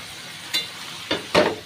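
Vegetables in a spiced vegetarian curry stirred in a hot pan, a few short scraping, sizzling bursts with quiet gaps between them, close and moderately loud.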